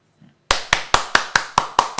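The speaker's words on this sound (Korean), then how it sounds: "그런 분들에겐 이번에 한 수가 박수 쳐줘야 돼요." Eight sharp, evenly spaced hand claps ring out close and loud after a brief quiet moment, with no talking.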